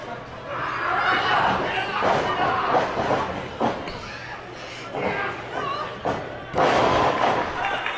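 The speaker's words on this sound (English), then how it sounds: "Oh, what a power bomb by Cameron Akasha Black." A wrestler is power-bombed onto the mat at a live wrestling event, landing with heavy thuds under excited commentary and crowd chatter.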